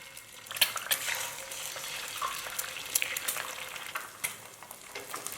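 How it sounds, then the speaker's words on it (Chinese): Two eggs hit hot scallion-infused oil in a wok and sizzle steadily, with crackling spits and a few sharp utensil taps against the pan, close and moderately loud. "然后往油锅内打入2颗鸡蛋"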